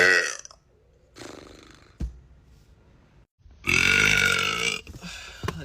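A man lets out several loud, drawn-out burps close up, separated by short pauses, the last and longest one rumbling strongly.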